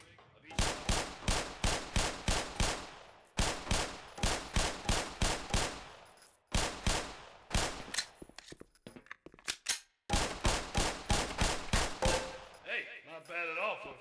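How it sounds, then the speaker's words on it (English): Pistol shooting at a range target in Black Mesa's Hazard Course: rapid, evenly spaced sharp shots in close loud bursts of about seven, separated by short pauses, with a brief voice near the end. "Put 7 rounds in the center ring of each thumb."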